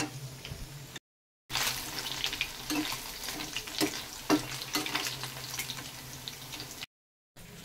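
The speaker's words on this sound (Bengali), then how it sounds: "সমস্ত পনির পকোড়াগুলি ভাজা হয়ে গেছে।" Paneer pakoras fry in hot oil, giving a loud, dense, continuous sizzle with scattered crackles and light scraping, framed by brief moments of silence at the start and end.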